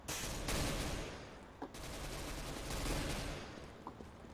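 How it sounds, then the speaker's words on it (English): Continuous gunfire in Counter-Strike: Global Offensive during a competitive 5v5 match, a dense sustained fusillade of shots with a few sharper cracks standing out over roughly four seconds, loud and with no talk. "Whoa, who's shooting?"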